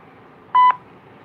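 A single short electronic voicemail beep sounds after the greeting, clear and close against a faint background hiss.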